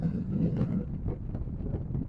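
Strong mistral wind gusting across a golf course in Marseille, a steady low roar and buffeting rumble on the microphone, moderately loud and continuous, with no talking.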